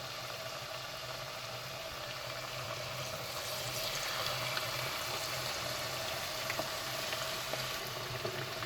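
Potatoes slide into hot frying oil in a pot, and a continuous bubbling, hissing sizzle swells a little louder partway through and stays steady and fairly close, with no one talking.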